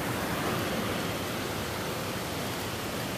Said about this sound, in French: Ça, c'est des vraies cascades.